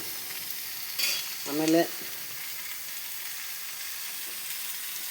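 Soybean masala roasts and sizzles in oil on a stove, a steady soft frying hiss running throughout, with a short spoken word and a brief clatter near the start.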